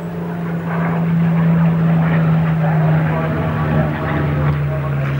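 A Hawker Hurricane piston-engined fighter in Polish volunteer RAF markings flies past at the 1992 Farnborough air show, a steady low propeller drone sustained across the clip while a commentator talks over it.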